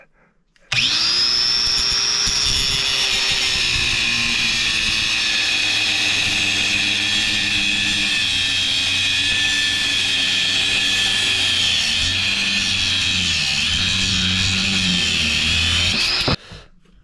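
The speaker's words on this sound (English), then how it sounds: "now we're going to cut the piece out for the handle" A power tool cuts out a piece for a replacement handle on a rolling luggage suitcase, a loud steady whine with shifting pitch that runs unbroken for about sixteen seconds, close by, then stops abruptly.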